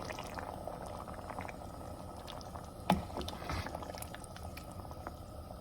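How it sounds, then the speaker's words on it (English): Coconut milk poured into a pot of boiling chickpea curry gravy, a soft steady bubbling and liquid simmer with one sharp clink near the middle, fairly quiet and close, no talking. "Once the gravy is boiling, pour the coconut milk, stir it a little bit."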